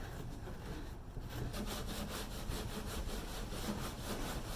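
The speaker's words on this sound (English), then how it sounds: "On areas with the most difficult way of cleaning, I've used a sander to remove the dirt." A power sander scrubbing dirt out of the hard-to-reach nooks of an old, beat-up kayak, a steady continuous abrasive grinding that holds at one level throughout, close and with no voices.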